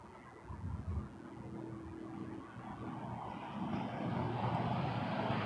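Air Canada airliner at Toronto Pearson Airport, its engines a steady low roar that swells gradually and grows louder toward the end, with broadband rumble and no voices.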